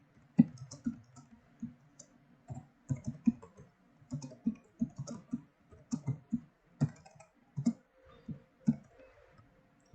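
Computer clicking, a string of close, light clicks and taps in uneven bursts across the span, like a mouse and keyboard in use in a quiet room.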